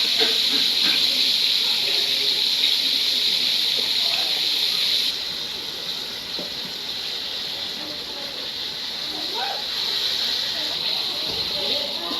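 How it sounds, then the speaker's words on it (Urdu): Fish frying in oil over a slow flame, a steady bright sizzle and hiss that holds throughout, easing slightly partway through, with faint kitchen clatter beneath. "یہ ہماری فش فرائی ہو رہی ہے۔"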